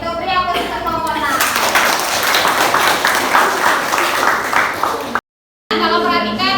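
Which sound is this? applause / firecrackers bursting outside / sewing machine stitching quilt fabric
applause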